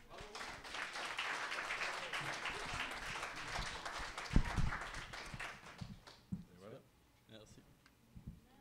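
An audience at an evening public science talk applauds, a dense burst of clapping that thins and fades out, with a speaker's voice over it toward the end.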